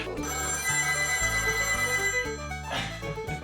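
An old payphone rings inside a pub with a steady, loud electronic warble that repeats in a sustained pattern, with a low, rhythmic hum running beneath it and no talking.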